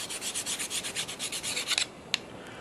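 Steady rhythmic rasping strokes of a file or stone worked back and forth along a Simmons broadhead's edge, about a dozen close, even passes, then a short pause broken by one sharp click.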